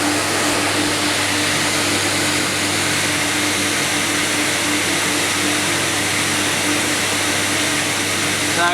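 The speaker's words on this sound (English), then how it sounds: "that's 2 motors running with the vacuum pump" A CamVac dust extractor runs two motors together with a vacuum pump, producing a loud, even, continuous roar with a steady low hum, close by and without pauses.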